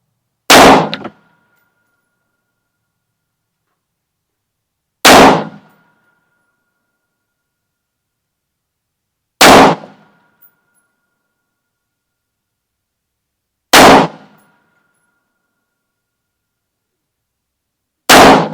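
Five loud, sharp rifle shots firing .223 Remington handloads with 21.8 grains of powder, each a single crack with a short decay, spaced evenly about four to five seconds apart with silence between.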